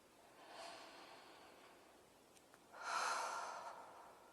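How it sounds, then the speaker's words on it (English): A slow, deep breath drawn in together with a guided group, starting with a soft inhale, a pause, then a louder, fuller exhale near the microphone, heard alone with no talking. "let's go ahead and take a deep breath together"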